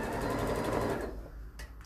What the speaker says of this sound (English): I'm doing a 1 centimetre seam.